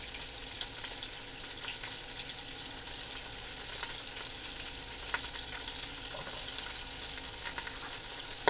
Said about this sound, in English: this just kind of brings out the flavor of everything by searing it a bit